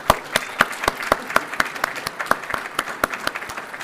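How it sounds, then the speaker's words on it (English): An audience at a landlord and small developers summit applauds steadily, dense clapping with a few sharp individual claps standing out, close and sustained throughout. "Let's give the mayor another round of applause."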